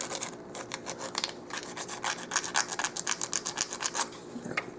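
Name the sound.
sanding the end of a 1/16 inch dowel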